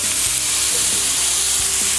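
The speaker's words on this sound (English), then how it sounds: "Time to get our chicken on." Chicken sizzles and fries steadily on a flat top outdoor griddle, a loud, continuous hiss close up with a few soft clicks of a utensil and no voices.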